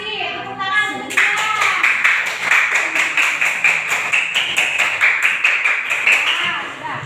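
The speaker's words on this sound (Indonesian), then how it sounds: "Tepuk tangan untuk semua." Schoolchildren in a classroom clap together in a fast, regular rhythm after a voice speaks briefly at the start, the claps loud and close and keeping the beat for several seconds.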